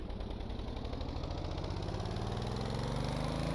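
Simulated vehicle engine revving in neutral in Stormworks, a steady loud mechanical drone whose pitch climbs gradually across the whole stretch, with no voices.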